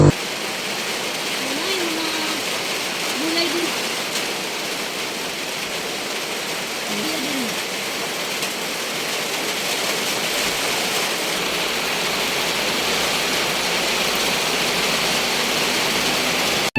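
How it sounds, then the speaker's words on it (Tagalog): Steady broadband rain falls in Pagadian City, a dense, continuous hiss throughout, with a few faint low voices underneath. "ulan man"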